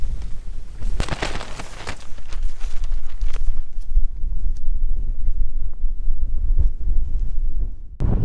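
Strong westerly wind buffets the microphone at a cold Lake District summit campsite, a loud, continuous roar with gusts throughout and a louder burst at the end.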